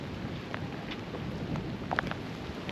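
Heavy rain pours down on a sailboat anchored off Antigua, a dense, continuous hiss of drops drumming on deck and rigging, with a few sharper splashes and no talking.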